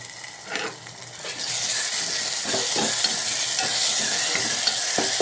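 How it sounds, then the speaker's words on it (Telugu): Tomatoes are mashed and stirred in a hot pan for a dry fish curry, giving a steady close sizzle broken by repeated scraping and pressing strokes of a spoon against the pan. "టమాటాలు ఇట్లా కానీ ఇలా చితకపరుచుకున్నారంటే త్వరగా మెత్తగా అయిపోతుంది అనమాట"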